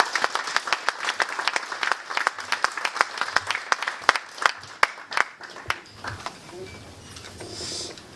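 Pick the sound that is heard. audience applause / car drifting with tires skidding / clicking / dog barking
audience applause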